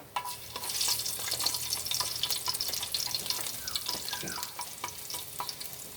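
Garlic frying in a cooking pan for pinakbet, a close, steady crackling sizzle with scattered pops and a faint stirring scrape, continuous and without talk.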